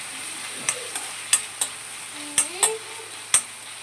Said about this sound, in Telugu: ఆనియన్స్ పచ్చిమిర్చి అయితే వేసేసుకున్నాం. వీటిని మంచిగా తిప్పుకొని కొద్దిగా గోల్డెన్ కలర్ వచ్చేంత వరకు కుక్ చేసుకుంటే చాలు.